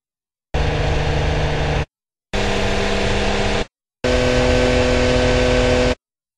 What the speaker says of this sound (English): You now notice and hear that the same EQ settings have been applied to all of the car sounds.